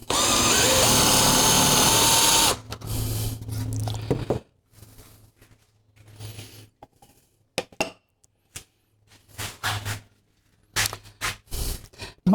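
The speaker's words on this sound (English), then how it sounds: "Okay, we'll drill this one out." A power drill boring out a part held in a vise in a shed, one loud sustained whir at the start, then bursts of rattling and clinking metal handling with quiet gaps.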